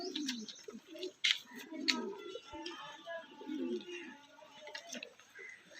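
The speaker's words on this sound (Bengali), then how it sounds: "অরিজিনাল চেন্নাই ব্রিডের পায়রা একদম হান্ড্রেড পার্সেন্টের চেন্নাইয়ের পায়রা" Chennai-breed pigeons cooing softly at close range in low, repeated murmuring calls, with a few sharp ticks and taps from the birds' surroundings and someone talking nearby.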